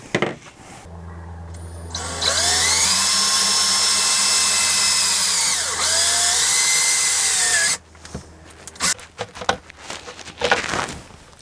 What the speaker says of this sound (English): get a hole bit, and I will drill a couple of holes